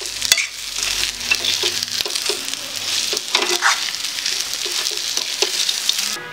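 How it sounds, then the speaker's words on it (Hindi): Nuts and dried fruit are stirred into hot melted sugar in a kadhai over low heat for chholia laddu, giving a soft sizzle under brisk, uneven scraping and stirring strokes; no voices. "आंच को धीमी रखें और इन मेवों को अच्छी तरह से इसमें मिक्स करें।"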